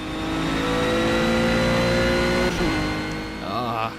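A race car engine in the video game Project CARS revs hard in a sustained high drone, then drops and shifts near the end as the pitch sweeps and wavers.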